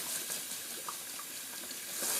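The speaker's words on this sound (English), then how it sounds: "just rinsing out my Semogue brush real quick" A Semogue boar-bristle shaving brush is rinsed under a running tap, giving a steady, fairly loud hiss of water splashing into a sink that lasts throughout with no talking.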